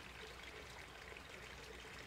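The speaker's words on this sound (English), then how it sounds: "the cold springs flow out into the street gutters" Cold spring water flows through street gutters in a Japanese town, a faint, steady trickling stream with no pauses, soft and continuous.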